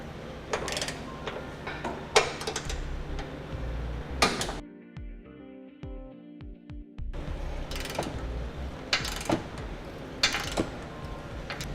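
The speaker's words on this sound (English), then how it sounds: "we'll go ahead and torque the specifications as indicated in instructions" Ratchet wrench torquing base plate hardware on a 2014 Chevrolet Equinox, scattered sharp metallic clicks and knocks around a brief run of rapid ratcheting ticks, fairly close and quiet.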